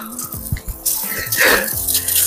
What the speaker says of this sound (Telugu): ఈ పైపులోంచి వాటర్ వస్తున్నాయా